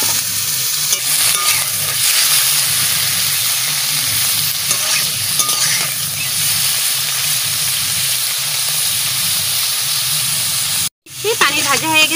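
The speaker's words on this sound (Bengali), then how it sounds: "এবারটা আমি পনিরটা ভেজে নেব। পনিরটা বেশি ভাজবো না" Paneer frying in a pan, a loud continuous sizzle with stirring scrapes throughout, close up, broken by a brief silence near the end before the spitting resumes; a voice speaks over it at times.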